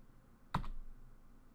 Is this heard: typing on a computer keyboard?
yes